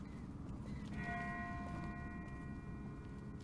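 Distant bell tolling in The Walking Dead Telltale video game, a sustained ringing tone that starts about a second in and hangs steadily over a dense low rumbling background.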